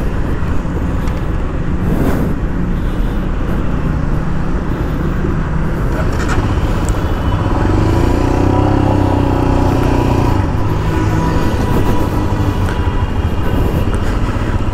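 A Royal Enfield Himalayan BS6 motorcycle is ridden on a road test drive. There is a constant loud rumble of engine and road noise, heavily mixed with wind buffeting, and no clear voices.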